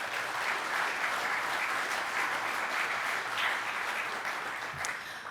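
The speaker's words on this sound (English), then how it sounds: "Please give them a round of applause." Sustained audience applause at a National Corvette Museum membership event fills the room evenly, moderately loud, and eases off slightly at the very end.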